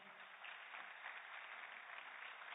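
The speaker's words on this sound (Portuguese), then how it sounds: "queria pedir uma salva de palmas para o Jonas" A crowd applauds Jonas Freire of the Brazilian Paralympic Committee at a ceremony in the Palácio do Planalto. The clapping is steady and faint throughout, with no talk over it.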